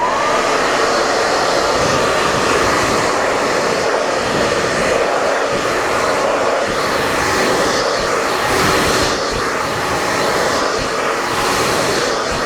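Hair dryer on a low setting blow-drying natural hair: a steady, loud, close whooshing roar with no pauses or speech.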